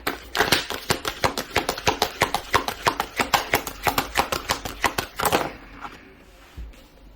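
Tarot card deck being shuffled and handled, a quick run of about twenty crisp rhythmic card slaps and riffles close up, ending in a soft rustle and then near silence.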